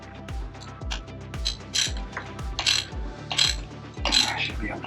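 A ratchet clicks rapidly, close and loud, in short regular bursts with brief pauses between strokes as a spark plug is worked loose and snugged back on a Lincoln MKX.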